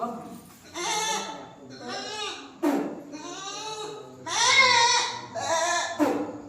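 A young goat bleats repeatedly, several wavering, high-pitched cries close by with short pauses between them.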